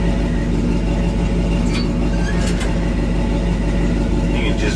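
A Chevy 350 V8 idles steadily in a 1966 C-10 truck, a low, even rumble running close and constant throughout, with a brief faint higher noise partway through.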